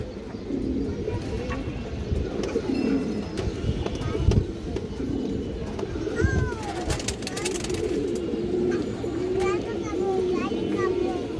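Racing and flying pigeons coo steadily at a loft, soft repeated calls over a busy, noisy background with distant children's voices.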